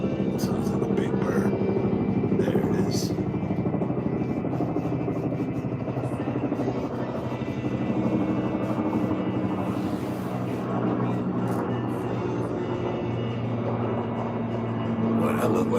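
A refurbished Huey helicopter flies overhead, its heavy rotor chop a loud, steady throb that builds and lingers for the whole stretch, with people speaking underneath.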